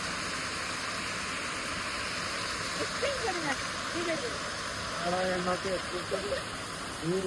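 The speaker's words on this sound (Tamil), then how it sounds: "Water falls குதாரி." A waterfall in Gudauri, Georgia roars as a constant broadband rush, while voices talk over it in the foreground.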